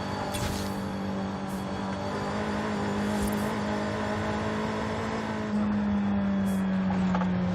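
A tuned Nissan Sentra Nismo in Forza Horizon 5 drives down an interstate, its engine holding a steady, loud drone that climbs slightly in pitch near the end as it accelerates, with brief tire and wind noises on top.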